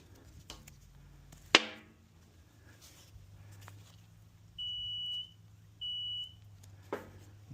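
Two steady, high electronic beeps come from a float alarm on a pump system being tested. They are short and moderately loud, set against a quiet background with a few knocks and clicks.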